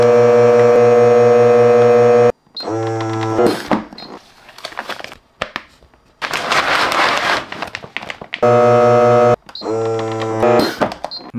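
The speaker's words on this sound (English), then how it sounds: "Vacuum the air out, then seal it." Vacuum sealer pumping air out of a bag holding 3D printer filament, a loud, steady mechanical hum in two bursts with rustling and handling noises in between.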